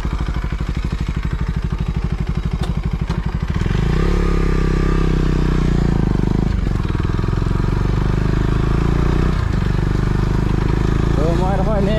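KTM Duke 250 BS6 motorcycle with the dB killer removed from its exhaust, a loud close engine: rapid idle pulses, then a sharp rev that rises and falls, with a voice briefly audible near the end.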